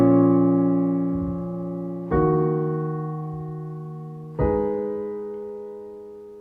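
Three sustained piano chords, each struck cleanly about two seconds apart and left ringing, slowly decaying between strikes, played alone with no voices.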